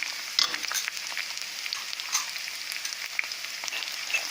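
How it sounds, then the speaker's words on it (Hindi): Finely chopped onion, added after ginger, fries in a pan for veg chowmein: a bright, steady sizzle up close, with a few light clicks of stirring. "और ये बारीक कटा प्याज डाल देंगे।"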